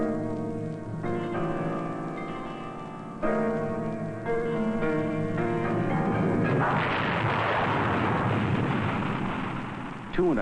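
An Apollo moon rocket lifting off, from a 1963 NASA program: someone narrates first, then a deep, loud roaring rumble swells and fills the final few seconds.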